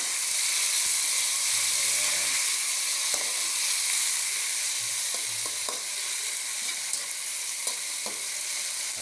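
Mushrooms hit a hot pan for ginisang kangkong at kabute and fry with a loud, dense, continuous sizzle and hiss, with faint scattered stirring knocks.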